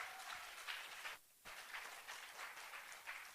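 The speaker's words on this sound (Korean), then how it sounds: "박수도 질서가 있어야지." Faint applause from a congregation at a church opening worship service, a steady patter of clapping that dips briefly in the middle before resuming.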